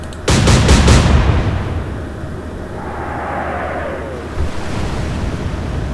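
Naval gunfire in the Atlantic Fleet game: a quick cluster of heavy booms at the start rolls into a long rumbling sea-and-wind wash, with a faint whistle midway and a softer thud near the end.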